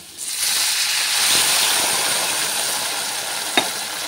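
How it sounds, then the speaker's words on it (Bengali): Mustard paste water poured into hot oil and spices for a fish curry hisses into a loud, steady sizzle that carries on close up, with one brief clatter near the end. "এবার আমি যে সর্ষেটা বেটে রেখেছিলাম সেই সর্ষে বাটার জলটা আমি এর মধ্যে দিয়ে দেব।"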